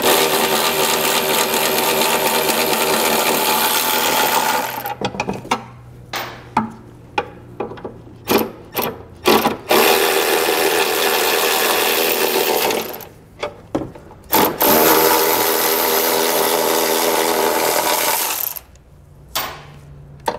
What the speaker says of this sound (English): We'll come back with an 18 millimeter socket and remove each of our 4 bolts.